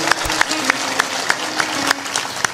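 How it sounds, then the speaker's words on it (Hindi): A seated audience claps in slow, uneven beats at a spiritual discourse, a sparse patter of hands rather than a full ovation, with voices talking underneath. "तो ताली जोर से बजाना चाहिए"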